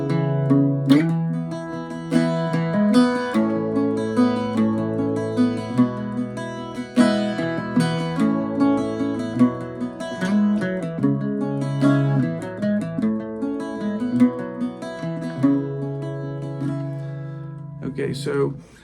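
Irish bouzouki plays an instrumental section of Wild Mountain Thyme, with the melody woven into strummed chords, sounding steady and close throughout with no voices.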